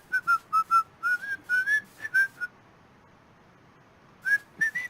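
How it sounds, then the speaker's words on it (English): Someone whistles a quick melody of short, bright notes, pauses for over a second, then whistles a few more notes, close and clear. "you can hear me like miss the cue and still whistle"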